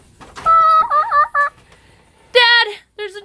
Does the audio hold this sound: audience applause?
no